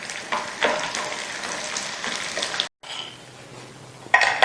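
Edible gum (gond) fries in ghee with a busy crackling sizzle that cuts out abruptly, then returns quieter with faint bubbling and a final burst of crackle, no talking.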